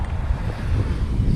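Strong outdoor wind buffets the microphone, producing a continuous rough, low rumbling roar with uneven gusting swells throughout.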